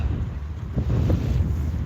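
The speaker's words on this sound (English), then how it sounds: "Oof, yeah, that's getting windy." Steady low rumbling wind buffeting a microphone, continuous and fairly loud throughout with no voices.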